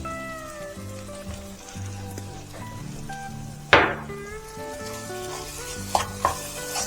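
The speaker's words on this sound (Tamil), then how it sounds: "நல்லா வதக்கிக்கோங்க." Pizza sauce with Italian herbs sautéing in a pan makes a soft sizzle over a steady tonal background, broken by a sharp clank of a spoon against the pan and a few lighter knocks later.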